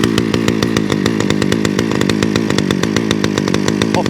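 Titan petrol engine running at mid choke during a cold start, on a unit that has not been starting correctly: a loud, steady, fast-pulsing engine note close to the microphone, with no talk.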